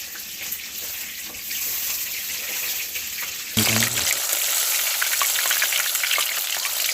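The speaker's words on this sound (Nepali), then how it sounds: "माछा पकाइरहेको छु बाबु।" Local fish fries in a pan at a forest house, a loud continuous sizzle that grows brighter and harsher about halfway through, with possible voices in the background.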